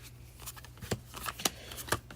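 Trading cards being shuffled by hand in a series of quick riffling bursts, crisp flicks and snaps repeating close up with steady background hum and no talk.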